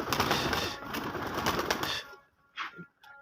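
A pigeon coos on a rooftop. A stretch of broad noisy rustle cuts off into quiet, then two short, soft, close coos follow.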